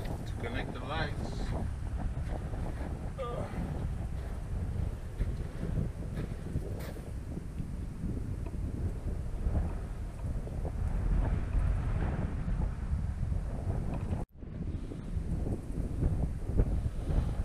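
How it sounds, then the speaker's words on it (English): Heavy wind buffeting the microphone outdoors beside an electric bike and bike rack, a constant low rumble for the whole stretch with a brief dropout near the end. "Sorry for the wind, it's kind of windy out here."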